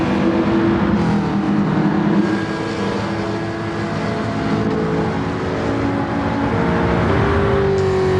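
Race cars roar around the track in a Gran Turismo cup race, a dense continuous engine drone with shifting pitches as several cars run close together, loud and steady with no talking.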